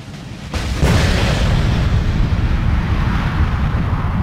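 A rocket-like, metallic explosion effect begins softly, then bursts into a loud blast and rolls on as a sustained, heavy rumble with no voices.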